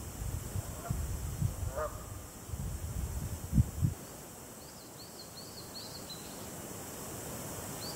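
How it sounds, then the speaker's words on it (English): Canada geese honk outdoors in a few scattered, fairly faint calls early on, set against steady background hiss and low wind-like rumble, then the calls drop away into quieter ambience. "The Canada geese have made their presence known, honking with great abandon."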